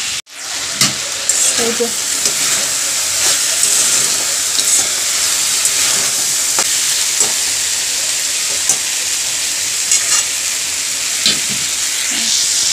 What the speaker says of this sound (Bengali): এদিকে বসিয়েছি কড়াতে আলু ভাজা